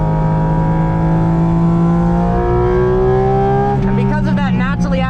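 A Porsche GT4 RS with a naturally aspirated engine accelerates hard on a race track. The close, continuous engine note climbs steadily in pitch, then shifts sharply near the end as the revs change.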